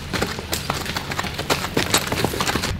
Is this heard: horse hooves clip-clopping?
yes